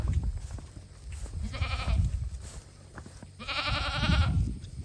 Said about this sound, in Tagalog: Dalawang kambing.